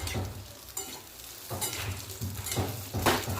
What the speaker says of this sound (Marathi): तूप छानपैकी गरम झाले आता रताळ्याचे काप टाकूया आणि छान नरम होईपर्यंत आपल्याला हे भाजून घ्यायचं आहे